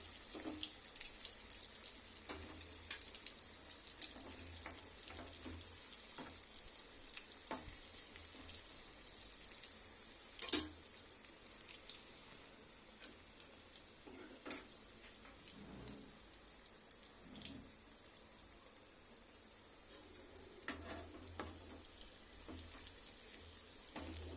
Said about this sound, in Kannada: ನಾಲ್ಕು ಫ್ರೈ ಮಾಡಿದ್ದೀನಿ ರೀ ಇವು ನಾಲ್ಕು ಫ್ರೈ ಮಾಡ್ತಿದ್ದೀನಿ